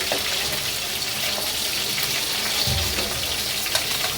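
Small bata fish frying in a pan, a steady bright crackling sizzle that holds evenly throughout at moderate loudness, with no voices.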